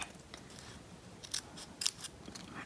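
Scissors snip through a folded paper flap during a kirigami fish weaving craft, giving a few short, crisp cuts close by against a quiet room.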